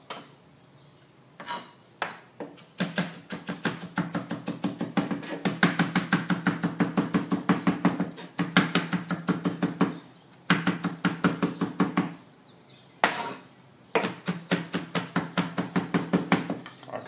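A knife minces on a cutting board for a salad of lentils and kale: rapid, even chopping taps come in long bursts separated by short pauses. The sound is close and crisp, with no talking.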